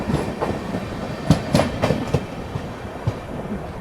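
Humsafar Express train running on the Delhi-Kanpur line, a steady rumble of wheels on rails with rhythmic clickety-clack joint clicks and occasional sharper knocks, heard close and continuous.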